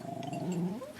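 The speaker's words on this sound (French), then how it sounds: "et son horrible chien" A dog growling close by, a short, low, rumbling snarl that rises briefly and then fades.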